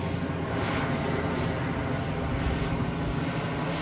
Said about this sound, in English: Okay, I hear a plane coming.